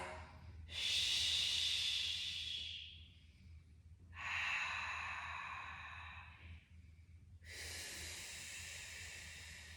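Three long, close breaths during a deadbug core exercise, each a drawn-out airy rush lasting a second or two and separated by short pauses, over a low steady hum.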